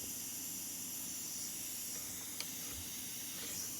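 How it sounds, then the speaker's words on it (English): Air escapes from a leaking valve on a Campbell Hausfeld air compressor with a broken valve-plate reed, making a constant close hiss that holds steady the whole time with no talking. "This is where I think the air leak is coming from."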